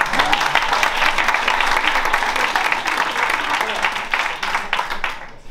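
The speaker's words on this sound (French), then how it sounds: "une tradition ici, c'est que les anciens, ils applaudissent les nouveaux" Audience at the Darcy Comédie comedy club bursts into dense, loud applause that holds steady for several seconds, then thins out and stops.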